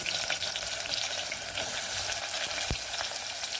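Chopped onion sizzles in hot oil in a pan for mutton curry, a steady close crackling hiss with one brief stir or clink partway through, no talk.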